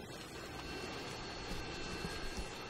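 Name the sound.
Harrier jet killstreak aircraft flying in Call of Duty Modern Warfare 2 video game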